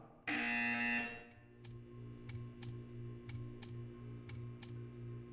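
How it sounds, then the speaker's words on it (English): A loud electronic buzzer in the video game Portal 2 sounds for about a second, followed by a steady quiet hum with soft, evenly spaced ticks. "When you hear the buzzer, stare at the art."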